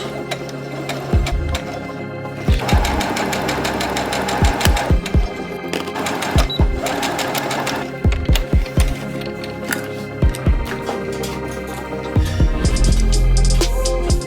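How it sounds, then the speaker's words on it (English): A sewing machine fitted with a walking foot stitches two pressed pieces of quilting fabric for a baby hexagon quilt, running in loud, steady mechanical bursts with short pauses and a quick back-stitch. "I'm just gonna line up my edge with my needle and then I can start sewing"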